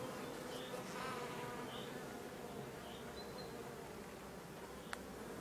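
Honeybees buzzing at an open beehive, a dense close swarm hum that holds steady throughout, with no voices.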